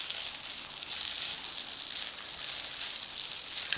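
Cooked rice being stir-fried for nasi goreng, giving a steady, close, continuous hiss and sizzle with no pauses and no voices.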